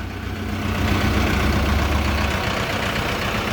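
A 40-horsepower Shifeng 404 tractor's diesel engine idles nearby, a steady low rumbling chug that holds at an even, fairly loud level throughout.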